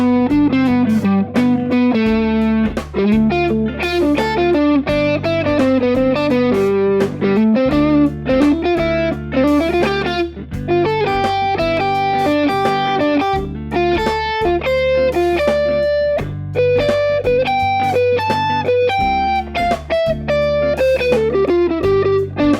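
Distorted electric guitar plays a continuous solo of arpeggios and chord-tone lines over a steady backing track, loud and dense throughout with no talking.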